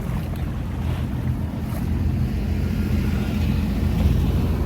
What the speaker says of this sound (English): The engine's starting to quiet down, I guess.